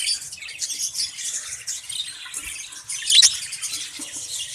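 Budgies in cages chirp and twitter in a busy, overlapping chorus, close and fairly loud, with one sharper call standing out partway through.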